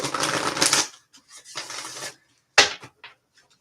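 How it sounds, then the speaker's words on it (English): Tarot cards being shuffled by hand in a few loud, crisp riffling bursts, each lasting under a second with short pauses between, close and with no talking. "Let me shuffle this again."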